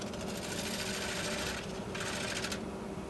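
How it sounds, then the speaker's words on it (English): A skew chisel laid on its side cleans up the foot of a walnut crotch bowl spinning on a wood lathe, a steady loud buzzing scrape under the motor's hum with a brief lighter pause. "I'm going to clean that foot up with a skew chisel on its side"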